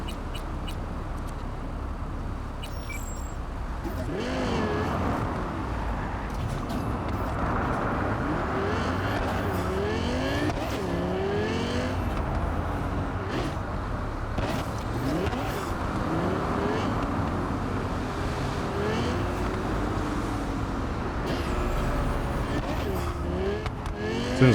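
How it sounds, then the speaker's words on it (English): Steady street traffic in Cyberpunk 2077, with engines droning and cars passing through a busy city street for the whole stretch, voices talking over the continuous rumble. "there's considerable more amount of cars on the street now"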